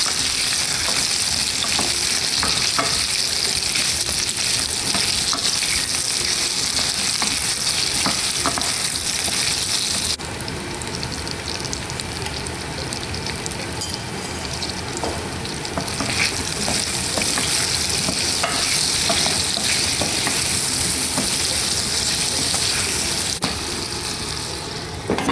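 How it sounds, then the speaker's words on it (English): Potatoes and chilies frying in a pan, a loud continuous sizzle throughout with repeated scraping and stirring strokes close by and no talking. "Quickly put in your potatoes. Give it a good stir."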